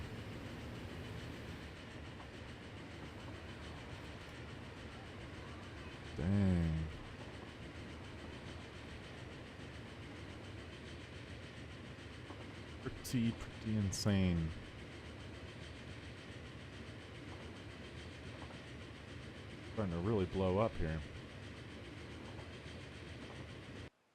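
Game train running on rails in Transport Fever, a city-building transport sim: low steady rumble with three louder clickety-clack passes swelling and fading, and a player speaking briefly over it.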